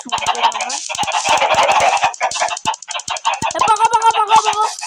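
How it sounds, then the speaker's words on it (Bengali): Loud, rapid video-game chicken clucking and squawking, several chicks calling in quick bursts close by. "খালি পকো করে এই মুরগির বাচ্চাগুলো।"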